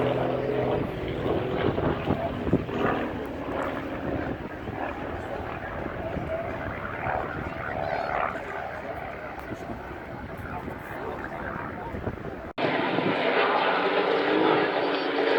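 Display aircraft at the Southport air show fly overhead as a steady engine drone with a broad rumbling texture, heard under a commentator's continuous talk, with a brief cut near the end where the sound shifts.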